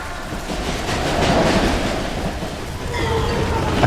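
A train in an Xbox 360 game passes with a loud rumbling rush that swells and fades, and faint squeals come near the end.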